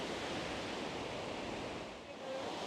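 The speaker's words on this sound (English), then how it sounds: "Now that is one powerful waterfall." A powerful waterfall on a river in the Malino Highlands, a steady loud broadband roar of rushing water that holds constant throughout with only a brief slight dip, no voices.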